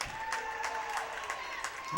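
Crowd applauding at a high school boys basketball game between FHS and St. James, a steady wash of clapping with some cheering, heard under an announcer's ongoing commentary.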